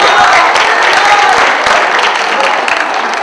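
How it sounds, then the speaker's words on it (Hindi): Loud, sustained clapping from an audience at a Hindi fortnight certificate ceremony, steady and dense throughout with a faint murmur of voices mixed in. "सम्मानित करने के लिए जोरदार तालियां बजा दीजिए।"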